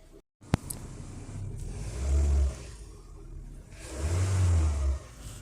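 A 2017 Mitsubishi Expander engine catches and runs, with two swelling low rumbling surges like revs separated by a quieter idle, preceded by a brief click and sharp transient, no talk.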